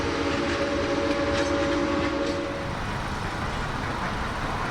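A steam train rolls along Norfolk Southern tracks through the Eastlake neighborhood, a loud continuous rumble with a sustained tonal whistle-like drone early on that fades into steady rolling noise.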